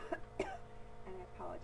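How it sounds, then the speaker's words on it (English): Two short coughs from a man getting over a nasty cold, close and moderately loud, the first two in quick succession and a softer throaty one later, with faint voice sounds between them. "I'm coughing in between all of these discussions"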